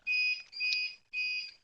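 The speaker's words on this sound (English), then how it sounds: "Now you may hear some beeps in the background" Three high electronic beeps after a power loss, each about half a second, evenly spaced and fairly quiet, like an alarm chirping in another room.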